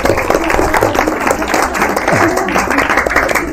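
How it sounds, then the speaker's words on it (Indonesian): An audience at a mosque gathering claps together, a dense continuous patter of many hands, loud and close, with some voices mixed in. "Nah, tepuk tangan dulu dong."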